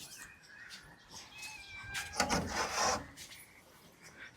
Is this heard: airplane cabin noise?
no